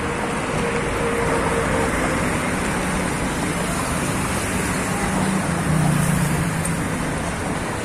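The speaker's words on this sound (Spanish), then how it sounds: "Se va el carro que tenía pintura y tenía elementos" A car pulls away down a city street, its engine and tyre noise blending into a steady wash of roadway traffic that holds level for several seconds, with no talking.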